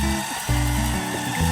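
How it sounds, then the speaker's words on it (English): A small coffee grinder crushes beans for espresso inside a VW California Ocean camper van, a steady loud whirring grind with shifting pitch as the burrs bite, close up and continuous. "Excuse the noise, that's just me beans grinding."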